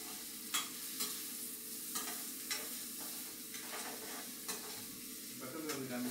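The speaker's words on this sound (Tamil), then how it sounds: "நல்லா கிளறி விட்டுக்கணும்." Food stirred in a hot pan with a spatula: a continuous frying sizzle with regular scraping strokes about every half second, close and moderately loud, with no voices.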